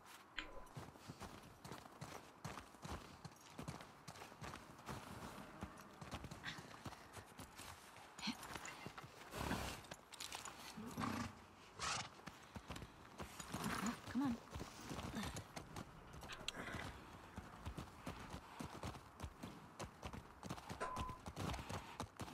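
Horse hooves clip-clop in a steady walking rhythm while a rider travels in the video game The Last of Us Part II, with some faint talk under the hoofbeats.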